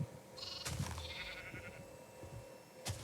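Sheep bleating in the video game Minecraft, two or three short wavering bleats close by, with a quiet background between them and no talking.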